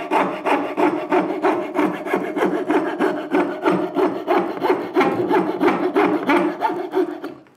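A coping saw, 14 teeth per inch, cutting through wood with a steady rhythm of quick, close, rasping back-and-forth strokes, about two or three per second, loud and alone.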